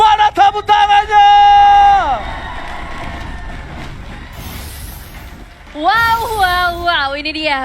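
Supporters cheer and shout in the MPL Arena at a Mobile Legends esports match between AlterEgo and RRQ, a loud broadband crowd roar under bright music-like tones, surging again near the end.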